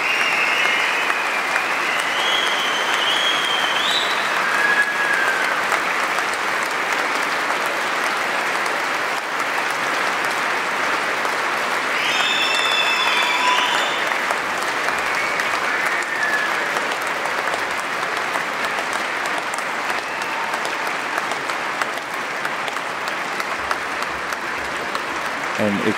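A concert hall audience applauds an orchestra at the NSO 2011 encore, with dense, steady clapping that stays loud the whole time and a few faint whistles and calls mixed into the crowd.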